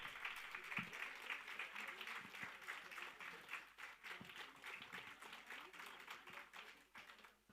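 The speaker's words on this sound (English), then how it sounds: "So a big round of applause for all of them." Audience applauding a finalist team at a national hackathon grand final, steady scattered clapping that swells and fades over several seconds, fairly faint and somewhat distant.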